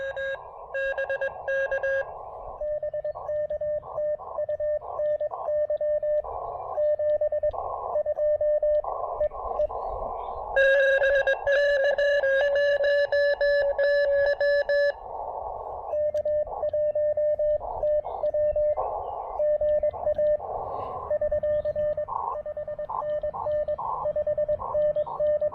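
Amateur radio CW signal received on an Elecraft KX2 through an end-fed half-wave antenna, steady Morse tones swelling and fading in strength over a constant hiss of band noise, with a brief higher-pitched burst partway through.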